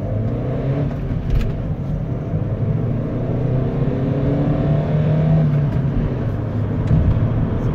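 A 2020 Renault Kangoo with a 75 hp diesel engine accelerates from 0 to 100 km/h, its engine droning steadily from inside the cabin and rising through gear changes, with no talking.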